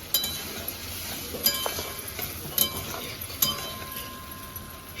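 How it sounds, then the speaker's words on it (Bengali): Potatoes being sautéed with ginger, chili, cumin, whole garam masala and tomato, with a low frying hiss and sharp metallic clinks of a spoon against the pan every second or so. "চলো এখন আলু দিয়ে কষিয়ে নেব এবার আমি ভালো করে কষিয়ে নেবো"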